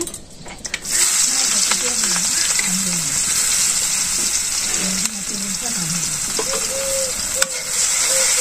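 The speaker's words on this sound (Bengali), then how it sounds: "পেস্ট আদা ভাজা হয়ে গেছে।" Ginger paste fries in hot oil with bay leaf, cloves and cardamom, a loud steady sizzle with occasional stirring clinks, while a voice talks over it intermittently.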